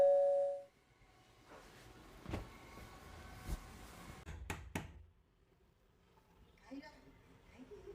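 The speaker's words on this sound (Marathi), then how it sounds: "सारखं सारखं बेल वाजवतंय." A doorbell at a home rings repeatedly, one clear chime at the start followed by several sharper rings and knocks, moderately loud and close, with a voice talking in between.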